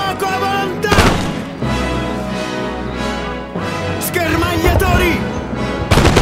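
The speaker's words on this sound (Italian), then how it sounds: "Fuoco a volontà!" Musket volleys crack out in a Napoleonic Wars video game, several sharp, loud bursts spread across a busy mix of shouting voices and other battlefield noise.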